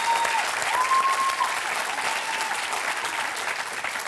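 Audience applause at a live impressions comedy show, dense continuous clapping from a crowd, loud and sustained throughout with a faint whistle early on.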